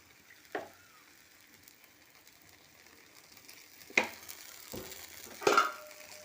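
Rava dosa frying in oil on a covered pan over a low flame: a soft, steady sizzle, broken by a few sharper clatters and scrapes near the end.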